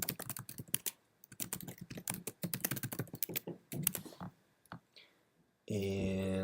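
Close, rapid typing on a computer keyboard in bursts of clicks with short pauses, ending in a steady electronic tone; no voice is heard.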